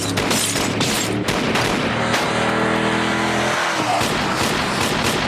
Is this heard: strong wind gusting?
no